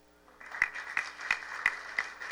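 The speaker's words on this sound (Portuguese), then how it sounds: "este jovem batalhador que merece os nossos aplausos" Sparse clapping during a solemn legislative session, a handful of distinct, evenly spaced claps over a low steady hum, fairly faint and distant.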